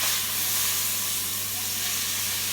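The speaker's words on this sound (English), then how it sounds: "So the pork is seared." Pork cheeks sear in a hot pan, giving a continuous broad hiss and sizzle that stays steady and close throughout with a faint low hum beneath.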